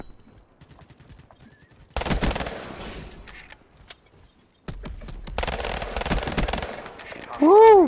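Pistols fire rapidly in a video game, in two long, dense bursts of shots separated by a short lull, with a brief rising tonal whine right at the end.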